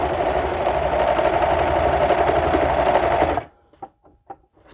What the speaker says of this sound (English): make sure that you have enough tail on the serger in order to pull that seam taut